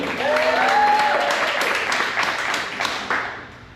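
Cruise ship audience on the Norwegian Joy applauding their general manager, with loud, close clapping mixed with cheers and whoops that tapers off near the end.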